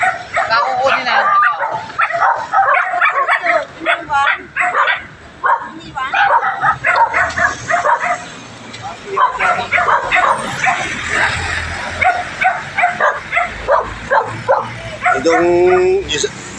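Rescued shelter dogs, some sick and mangy, bark, yip and whimper in a noisy close-up jumble while people talk over them throughout.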